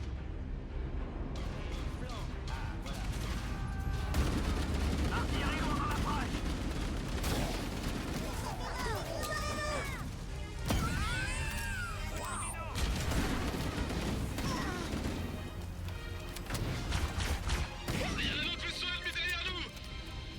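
Enemy fire in the Halo Campaign Evolved game crackles in dense bursts of shots and booms, with heavy explosions and rapid volleys layered over music and occasional talk.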